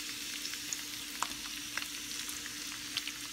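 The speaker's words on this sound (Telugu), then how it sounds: "ఆయిల్ వేడి అవ్వగానే ముందు పచ్చిమిరపకాయలు వేసేసుకోండి." Green chillies frying in hot oil, a steady close sizzle with occasional sharp pops and crackles throughout, no voices.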